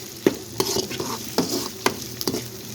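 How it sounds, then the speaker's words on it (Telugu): Garlic, onion, green chilli and curry leaves frying in hot oil, with a steady sizzle broken by several sharp stirring scrapes of a spoon against the pan, close up. "వెల్లుల్లిపాయలు ఎర్రగడ్డ పచ్చిమిర్చి కరివేపాకు అన్నీ వేసేసాను ఇంకా ఇవి బాగా వేయించుకోవాలి"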